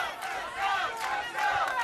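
Spectators at a World's Strongest Man deadlift event cheer and shout in a loud, swelling wave of crowd noise that rises and falls in bursts, heard from close within the arena.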